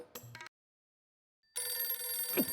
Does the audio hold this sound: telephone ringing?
yes